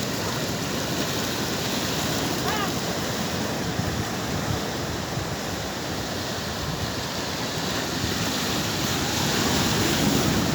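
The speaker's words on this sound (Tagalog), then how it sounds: "Ang ganda ng mga alon." Large Pacific Ocean waves break and roll onto the shore, a loud continuous roar of surf mixed with wind buffeting the microphone, with no voices heard.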